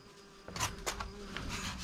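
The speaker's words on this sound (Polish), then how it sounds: "A tutaj jakieś trzmiele mieli gniazdo, widzicie? I wszędzie w dziury mi wchodzą." Bumblebees buzz near their nest in a farm building wall under renovation, a steady low drone with a few sharper passes close by, no voices.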